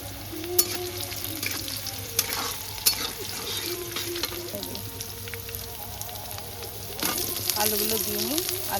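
Potatoes frying in hot oil over onions for a Bengali rohu fish curry, a steady soft sizzle with intermittent stirring scrapes and clinks, fairly close, with no talk.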